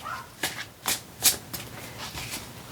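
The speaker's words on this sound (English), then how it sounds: "I'm going to shuffle until I feel it's time and get the right order of cards" Tarot cards being shuffled by hand, a series of crisp riffling bursts, about five or six distinct ruffles at irregular intervals, close and clear, with no talking.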